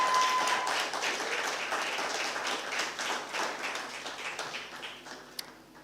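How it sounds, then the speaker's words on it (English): An audience at a postgraduate inter-campus debate competition applauds, a dense wash of clapping that starts strong and gradually thins and fades over several seconds. "let's give a thunderous round of applause to the opposition team"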